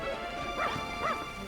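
A dog in the video game Dragon Quest Builders gives two short, bright barks over a steady background game tone, fairly near and moderately loud.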